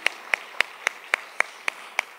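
Sharp, evenly spaced hand claps ring out at a theater event, about eight beats in steady rhythm with a light crowd murmur beneath them.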